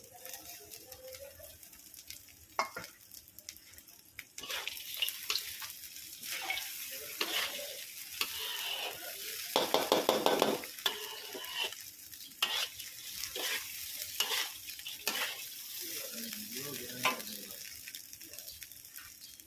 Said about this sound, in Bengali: ভাজা শেষ, চালটা ব্রাউন কালার হয়ে গেছে।